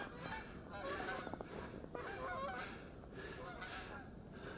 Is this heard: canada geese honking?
yes